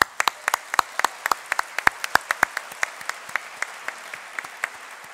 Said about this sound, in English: Give Sarah a round of applause.